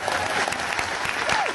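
A convention crowd applauds as a Star Trek panel is introduced, loud continuous clapping with scattered cheers and a faint whistle rising through it.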